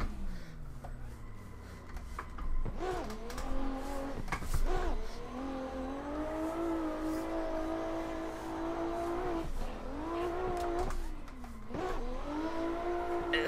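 Car drifting up Pikes Peak in Assetto Corsa, the engine droning and revving up and down through shifts with brief bursts of tire squeal, steady and fairly faint, no talk.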